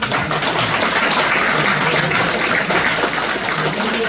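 A crowd of party members at a regional committee gathering applauds city council members, producing a dense, loud, sustained wash of clapping that runs unbroken for several seconds without speech.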